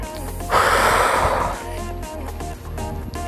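Heavy breathing during a postpartum dumbbell workout, a loud breathy exhale near the microphone followed by quieter snorting breaths over a faint background of music.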